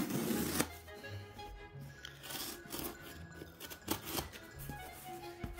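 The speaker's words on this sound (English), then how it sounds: "I have the wrong scissors. These don't open up very well." Scissors cut open a package during an unboxing of a roleplaying gamemaster pack: close, dry rasping and rubbing strokes in uneven bursts, with rustling of packaging between cuts and no talking.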